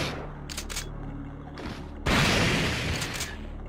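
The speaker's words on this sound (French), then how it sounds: "avec une petite explosion, c'est pas mal" Gunfire followed by a loud explosion in the survival horror game Resident Evil 3, with a few scattered shots before a sudden broadband blast that booms and rolls on through the rest of the moment.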